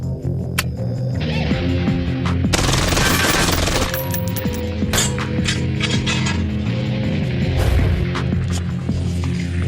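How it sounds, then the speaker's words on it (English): Full-auto bursts from a KRISS .45 caliber machine gun, loud and close, with a dense rattling volley in the middle over a steady humming background. "It's a .45 caliber machine gun where you can put all of your rounds right on target because there's such little recoil."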